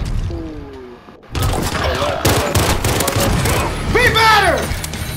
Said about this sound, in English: This gun got some power.